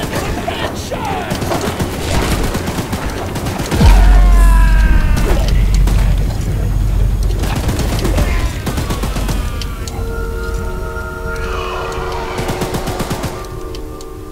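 Heavy mounted gun firing at Charles, the monstrous spider-train in the Choo Choo Charles game, in loud sustained bursts with booming impacts, mechanical clatter and crashing debris throughout.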